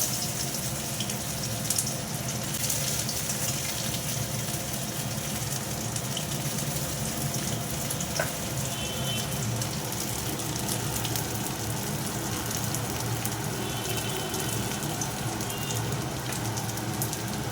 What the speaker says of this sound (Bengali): অল্প অল্প করে ভাজবো, কারণ খুব নরম তো।